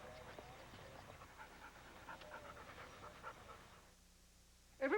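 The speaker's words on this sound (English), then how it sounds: "Good dog." A dog pants in a short, rapid rhythm through most of the 1994 TV commercial, mixed under voices and background sound before a brief pause.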